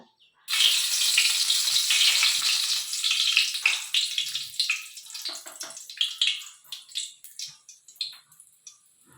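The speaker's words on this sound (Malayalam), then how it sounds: "എണ്ണ ഒഴിച്ചു ഒരു കഷ്ണം കറുവാപ്പട്ട ഏലക്ക പിന്നെ ഗ്രാമ്പു ആദ്യം ഒന്നിട്ട് പൊട്ടിക്കാം" Cinnamon, cardamom and cloves dropped into hot oil: a sudden loud sizzle that settles into crackling and spluttering pops, up close.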